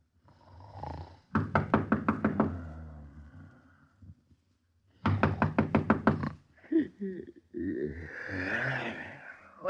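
Two bursts of rapid knocking on a door, about seven quick raps each, separated by a pause, staged for a 1940s-style radio crime drama; a voice and other studio sounds follow the second set.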